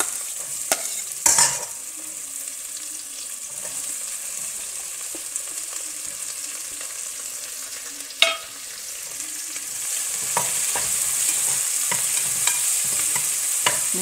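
Onions sizzling in hot oil in a pan for a mutton gravy, a steady frying hiss with stirring scrapes, a louder clatter near the start and a sharp knock partway through, with no talking.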